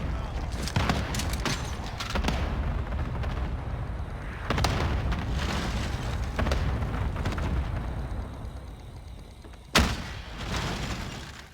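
Repeated deep booming explosions from Call of Duty: Warzone, several heavy blasts spaced apart over a constant rumbling battle din, with one sharp loud burst near the end.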